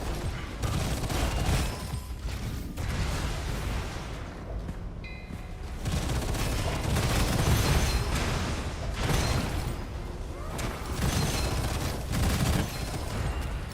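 Sustained video game gunfire crackles in dense, overlapping bursts for the whole stretch, with mechanical clatter and booms, fairly loud and continuous without talk.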